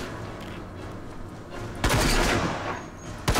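Sniper rifle fire in the shooter game RAGE, two sharp loud blasts about a second and a half apart, each followed by a rumbling tail over a dense backdrop of battle noise.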